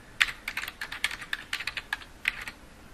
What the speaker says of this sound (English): we can simply click once in the search bar, type in our keywords